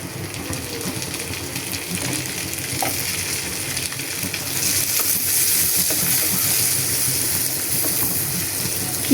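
Loud, continuous sizzling as carrots fry with garlic in a hot pan for mixed vegetable curry, with light stirring scrapes; the hiss swells louder partway through. No voices.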